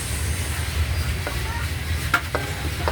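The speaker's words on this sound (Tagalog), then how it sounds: "So, ilagay na natin yung mga sangkap. Yung kamatis." Tomatoes drop into a hot pan for paksiw na hito, catfish with black beans, giving a couple of brief soft sizzling bursts over a steady low background rumble.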